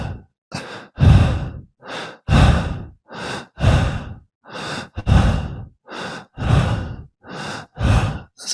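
A human voice imitates the long, heavy breathing of dying people, with about a dozen slow, deep, sighing breaths that alternate with short gaps, close and loud with no other sound.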